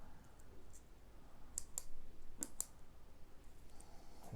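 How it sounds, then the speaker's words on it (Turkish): An F.B.I F-82 T6 rechargeable 2000-lumen LED zoom flashlight having its button pressed to change modes: two quick pairs of small, crisp clicks, close and quiet, in an otherwise hushed room. "Bir kez bas bir kez daha bastım."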